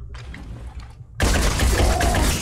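Heavy video-game shotgun gunfire erupts loud and close after a quieter stretch, merging into a dense, continuous barrage of blasts.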